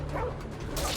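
A dog in the game Remnant: From the Ashes barks and yips in short bursts while it attacks, with game noise around it.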